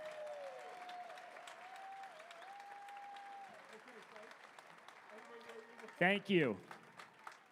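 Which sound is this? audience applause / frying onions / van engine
audience applause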